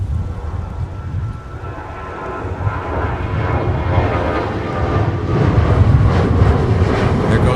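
An unmarked all-white Boeing 737 jet passes at an airport on a winter day, a broad rumbling engine roar that swells slightly and holds steady throughout, with no voices.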